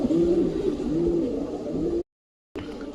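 A pet rock pigeon kept at home coos in repeated soft, throaty rolling phrases, close and fairly loud, with a brief cut to silence before the cooing resumes.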